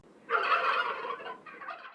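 Turkey gobble, a loud close rattling call lasting over a second, followed by a shorter second burst.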